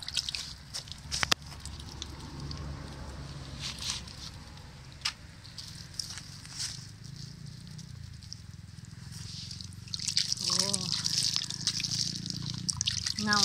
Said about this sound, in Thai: แล้วก็จัดการเอามาแช่น้ำแบบนี้